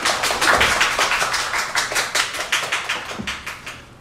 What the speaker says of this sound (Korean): 우리 뜨거운 박수로 우리 관장님.